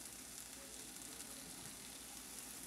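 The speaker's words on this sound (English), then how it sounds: "So that's our plantains in coconut oil, and they are going to slowly cook" Ripe plantains fry slowly in coconut oil in a skillet, a soft, constant sizzle that stays fairly quiet and even with no voices.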